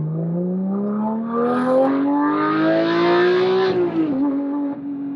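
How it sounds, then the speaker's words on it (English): A Porsche 911 GT3 (991.2) exhaust revs up with a rising, throaty drone, holding a loud high note before dropping back, close and alone. "the exhaust sounds absolutely insane"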